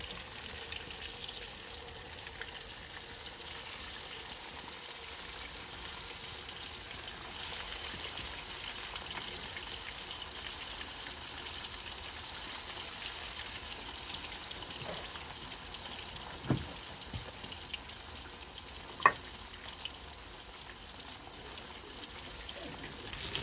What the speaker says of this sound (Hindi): जो हमने पहले हाफ फ्राई की थी उसको हम दोबारा फ्राई करते हैं।